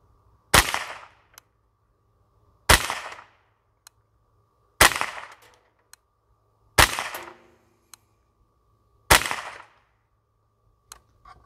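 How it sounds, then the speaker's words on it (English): Five loud, sharp shots from a Beretta ARX 160 rifle firing Federal Auto Match ammunition, evenly spaced about two seconds apart, each with a short decaying echo and no talk. "same course of fire for the Beretta ARX 160, starting out with the Federal Auto Match"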